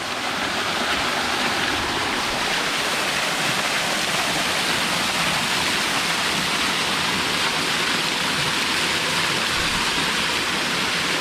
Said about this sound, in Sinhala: මෙතන තමයි දියැල්ල තියෙන්නේ.